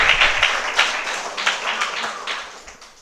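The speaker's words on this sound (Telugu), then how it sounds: "గట్టిగా చప్పట్లు కొడుతూ దేవుని మహిమపరుస్తామండి." A church congregation at a Sunday service claps loudly in praise, rhythmic hand claps rising in bursts and gradually fading toward the end.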